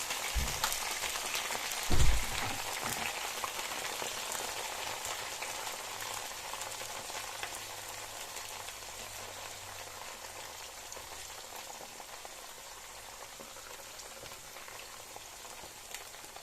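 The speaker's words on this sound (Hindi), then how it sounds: "उसमें आप भिंडियाँ डालकर फ्राई कर लें" Okra frying in about two cups of hot oil, a steady rain-like bubbling sizzle throughout, with a brief louder clatter near the start before it settles into an even hiss.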